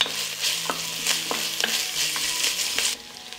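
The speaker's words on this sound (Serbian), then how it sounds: "Na zagrejano ulje dodajem crni luk." Chopped onion and garlic frying in hot oil, a loud continuous sizzle punctuated by sharp scrapes of a spoon stirring against the pan, no voices.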